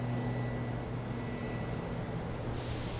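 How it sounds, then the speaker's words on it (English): The Celtics team plane taxis toward the runways, a steady, distant jet-engine drone with low tonal hums holding evenly throughout. "we got the Celtics plane heading out to the runways"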